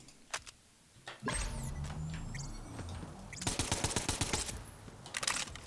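A Dahl SMG in a video game fires full-auto, first in a few sharp single shots, then in fast rapid bursts with mechanical clatter, loud and close.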